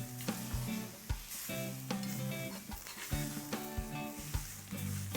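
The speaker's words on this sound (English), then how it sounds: "I'm going to add this and I'm going to roast this as well till it becomes nice and brown." Grated fresh coconut roasts with browned onions, sizzling steadily while repeated utensil knocks and scrapes of stirring punctuate the frying at irregular intervals, with no voices.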